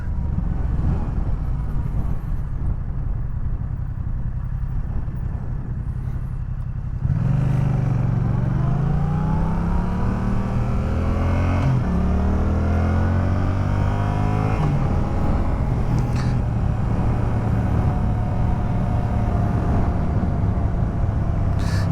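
A car idles, then accelerates in several pulls from around seven seconds, engine pitch climbing and shifting through gears, loud and close from inside the vehicle, no talk.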